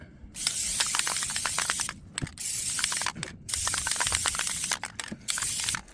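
A Rust-Oleum spray paint can hisses in several bursts of a second or so each, separated by short pauses and faint rattling, close by.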